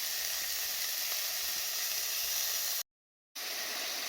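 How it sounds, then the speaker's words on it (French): Bacon frying in a non-stick pan without added oil, making a steady, dense sizzle close by that cuts out briefly and then resumes. "Je commence par le bacon. Je le mets dans ma poêle pour le faire"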